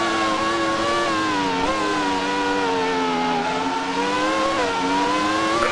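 Race car engine in the Automobilista sim, a Grand Prix car running in close traffic with a damaged front wing; a steady high-pitched whine that rises and falls with throttle through a corner, continuous and loud, no talk.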